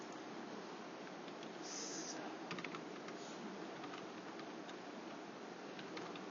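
Quiet clicking keystrokes on a computer keyboard, a short irregular burst of taps over a low background hiss, with no talking.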